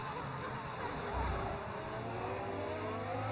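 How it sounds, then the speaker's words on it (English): Modded race car engine in a Formula One video game whines at a high pitch with smooth rising and falling revs, steady and moderately loud with a faint low thump briefly underneath. "How does the car sound like that? It's a mod."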